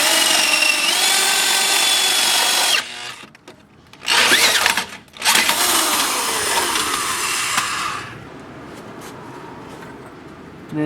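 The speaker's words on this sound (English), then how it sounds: "we're going to drill the pilot hole for the rear bracket, or for the rear bolt." A power drill boring a 7/16 pilot hole for a rear hitch bolt on a Pontiac Fiero, a loud steady whine that cuts out briefly twice and then fades to a quieter hum.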